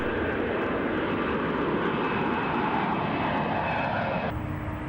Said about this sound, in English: then a landing into a blustery southerly on runway 16